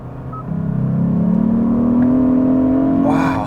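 A 2021 Hyundai Sonata N Line engine revs with its artificial sound turned off, heard from inside during a night drive: a loud, rising drone that swells after a brief lull, holds steady, then climbs sharply near the end.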